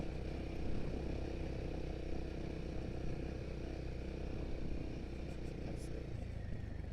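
A motorcycle engine pulls steadily uphill on a ride, a continuous close droning hum with wind noise and no clear revving changes.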